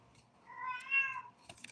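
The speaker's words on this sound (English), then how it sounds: "Cat goes meow, and it's like, meow." A single cat gives one clear, drawn-out meow, close by in a quiet indoor room, followed by a faint rustle.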